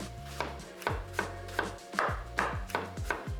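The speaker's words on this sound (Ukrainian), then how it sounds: "Нарізаю яблучка соломкою." A knife chops steadily on a board, cutting apples into thin strips, about eight crisp, evenly spaced cuts close by, with no talking.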